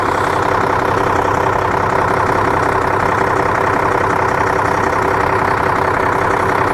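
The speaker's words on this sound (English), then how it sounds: "Now we have to do this with the engine running" A loud, steady bus engine idles nearby, a continuous low rumble with a rough, throbbing texture and no pauses.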